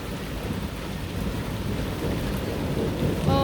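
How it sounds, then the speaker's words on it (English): Heavy rain pouring steadily during a severe thunderstorm, with a low rolling rumble of thunder beneath the dense hiss, loud and close throughout. "And there's more thunder. More lightning."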